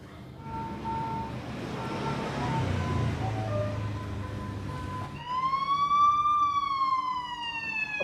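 Police siren rising and falling in a loud wailing sweep that starts partway through, preceded by a background of street noise and traffic.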